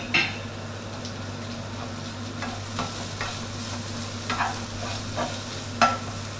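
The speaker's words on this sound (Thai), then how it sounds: "ตอนนี้เราจะผัดให้หอมแดงของเราสุกหอมก่อนครับ" Shallots and tofu for pad thai sizzle over medium heat in a close, steady fry, broken by occasional scrapes and taps of the spatula as they are stirred. No one talks.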